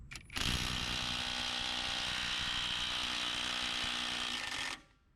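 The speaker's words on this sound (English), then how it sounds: "I broke loose the lug nut and retorqued the lug nut to 120 foot-pounds" A Bauer 20V cordless brushless impact driver works on a car lug nut torqued to 120 foot-pounds, giving one continuous loud rattling, hammering buzz for about four seconds close up before cutting off abruptly.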